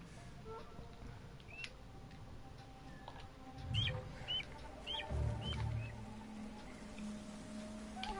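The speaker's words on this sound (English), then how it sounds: "There comes the yellow bird." A small yellow guide bird in the game Ghost of Tsushima gives faint, scattered chirps over low ambient rustling and game sounds.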